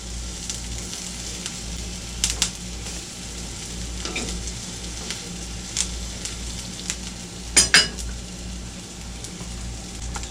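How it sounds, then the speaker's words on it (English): Onions frying and caramelizing in a pan give a steady, even sizzle with crackle throughout, broken by a few brief louder clatters, close by with no talking. "Our onions are coming across and cooking up just perfectly."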